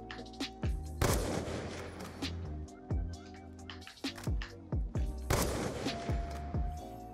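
Gunfire in Black Ops 2, a rapid series of sharp, loud shots with booming echoing tails, some single cracks and some clustered bursts spread evenly over several seconds.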